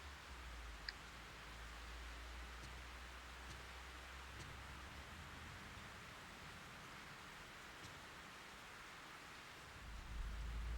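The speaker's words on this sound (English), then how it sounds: "It's raining again." Steady, faint rain in the horror video game Fatal Frame 3, a soft even hiss with a few scattered light ticks, heard alone throughout.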